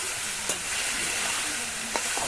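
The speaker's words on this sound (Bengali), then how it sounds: "আর তেলে কালো জিরে দিয়েছি, দুটো শুকনো লঙ্কা দিয়েছি" Nigella seeds and two dried chillies fry in hot oil, giving a steady soft sizzle with a few faint pops and crackles, no talking.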